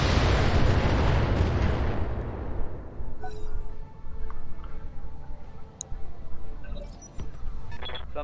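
Mech weapons fire in the urban-warfare video game Battletech: one heavy blast that rolls into a long, fading rumble, then scattered small ticks and faint electronic tones over a low hum.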